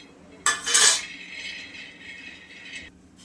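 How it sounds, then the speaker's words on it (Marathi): Raw peanuts go into a dry pan for roasting, a sudden loud clattering rush as they land on the metal, then a lighter continuous rattle and scrape as they are stirred, close by and with no talking. "तोपर्यंत शेंगदाणे टाकूयात भाजायला आता"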